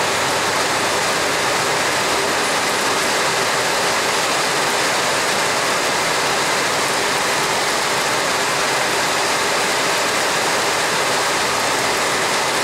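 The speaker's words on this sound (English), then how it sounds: "Look at all that water going out of there." A continuous rushing wash of rainwater streams steadily and loudly, gushing out of a new carport drain, with rain-like hiss throughout and no speech.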